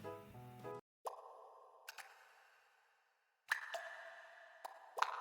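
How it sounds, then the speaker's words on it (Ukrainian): Water drips in separate hollow plops, a few well-spaced drops with ringing tails, clear and close against quiet gaps. "Правильно, вода крапає."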